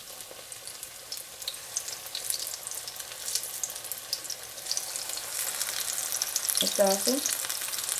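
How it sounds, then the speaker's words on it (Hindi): Pakoras frying in hot oil in a kadhi pakora cooking scene, a soft steady sizzle with a brief clatter of a spoon near the end while someone speaks briefly. "हमारा ऑयल गर्म हो गया है। अब हम इसमें पकोड़े डाल देंगे एक एक करके।"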